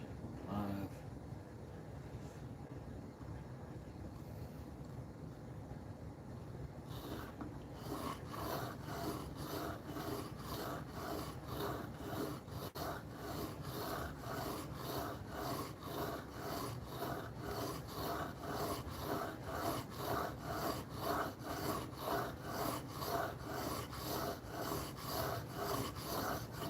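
A knife being sharpened on whetstones, with steady rhythmic rasping strokes up close that repeat quickly and evenly, growing slightly louder and more regular after the first few seconds.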